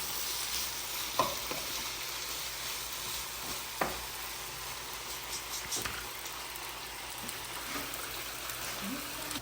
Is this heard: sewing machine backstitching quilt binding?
no